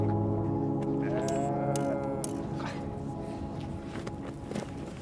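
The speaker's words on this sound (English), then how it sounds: "these sheep are their only source of wealth" A herd of sheep belonging to Kyrgyz nomads bleats near and loud, drawn-out calls overlapping in the first seconds, with shuffling hooves and movement continuing underneath as the bleats fade.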